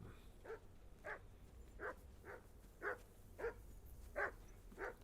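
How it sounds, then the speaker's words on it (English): A dog barks repeatedly in the medieval role-playing game Kingdom Come: Deliverance II, eight or so steady moderate barks spaced about half a second apart, over faint background ambience with no talking. "Henry, call that dog to heel."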